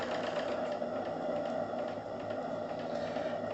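The steam engine of the live steam launch Topaz turns slowly, giving a steady, close mechanical whirring and light rhythmic clatter with no talking.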